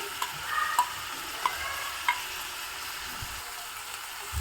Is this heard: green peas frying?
yes